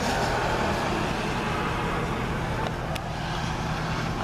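Road traffic outside, most likely a passing truck or similar heavy vehicle, making a steady broadband engine rumble that holds at moderate level throughout with no talk.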